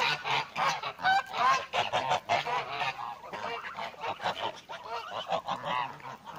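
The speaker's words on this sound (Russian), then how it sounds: "Гуси на улице." A flock of village geese honks outdoors, repeated overlapping nasal calls in quick irregular bursts, fairly close and continuous throughout.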